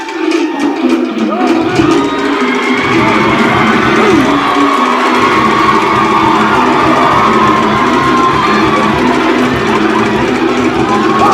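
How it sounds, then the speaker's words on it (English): Wedding guests cheer, whoop and applaud for the MC at a wedding reception, a loud, continuous crowd roar with shouts that holds steady throughout. "Big round of applause for the MC"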